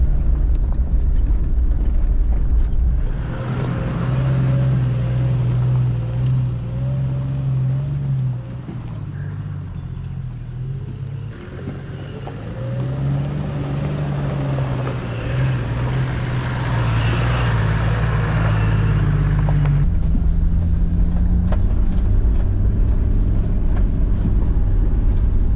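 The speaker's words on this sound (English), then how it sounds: "There's a crew of about four-wheel drives. They're sort of coming the same way." Four-wheel drive vehicles driving along a bush track near Wonnangatta: steady, loud engine drone with shifting revs as the vehicles pass close by, with rumbling tyres and no talking.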